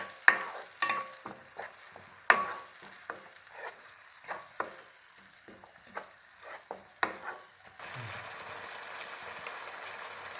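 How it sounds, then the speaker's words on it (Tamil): Rajma masala sautéing in a pan, with repeated stirring scrapes and clicks over a soft frying sizzle, close and fairly loud, then settling into a steadier sizzle toward the end. "இதையும் நல்லா வதக்கணும்."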